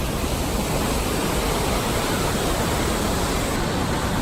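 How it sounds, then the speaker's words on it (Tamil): A dense, constant roar of falling water fills the air, loud and unbroken, from Athabasca Falls in Alberta heard at close range. "இதுதான் அந்த ரிவர். அது ரிவர் வந்து வடத்தடியில் கீழே விழுகுது."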